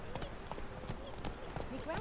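A horse's hooves clip-clop in a steady trotting rhythm in The Witcher 3, close and fairly quiet, with someone talking over the hoofbeats.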